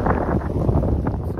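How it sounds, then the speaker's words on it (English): Strong gale-force wind, gusting 25 to 40, batters the microphone on a canyon road beside a 2021 Porsche 911 Turbo Cabriolet, a loud continuous low roar and buffet with no break. "We get up here, straight up gale force wind."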